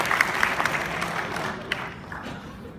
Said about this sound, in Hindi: संजय जी के लिए एक बार जोरदार ताली बजाएं